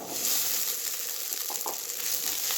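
Green chilies fry in hot oil for sabudana khichdi, giving a continuous close, bright sizzle with faint stirring scrapes and no voices.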